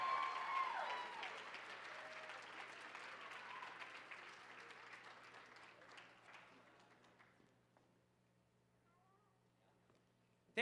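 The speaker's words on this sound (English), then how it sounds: "Give these guys a big, huge round of applause, please" Audience applause at a dance convention awards ceremony, a dense wash of many hands clapping that starts loud and steadily thins and fades out over about eight seconds, leaving near-silence with faint stray sounds.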